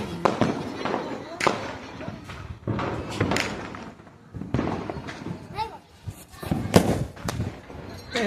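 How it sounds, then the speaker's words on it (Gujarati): Diwali firecrackers go off outdoors as a series of sharp, loud bangs with irregular spacing, set among people talking and exclaiming nearby. "3 ધડાકા વાળે કેવો 3 ધડાકા થાય કે ખોટા થાય? 3 ધડાકાની ટ્રાય કરીએ।"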